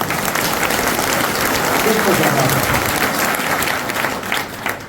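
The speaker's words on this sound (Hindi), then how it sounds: "एक बार जोरदार से शंकर भाई के लिए तालियां" Loud applause and crowd clapping for Shankar Bhai at a community meeting, a dense, sustained roar of hands that fades slightly toward the end, with voices mixed in.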